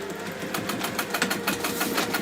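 Sewing machine stitching through a waxed bag, a fast even mechanical chatter of needle strokes running continuously at close range.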